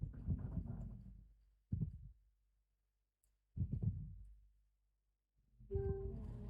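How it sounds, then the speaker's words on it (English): The heartbeat warning in Minecraft's Decked Out plays as deep, muffled low thumps, repeating in bursts with short silent gaps between them, fairly strong and with no voices over them. "I'm hearing lots of heartbeats."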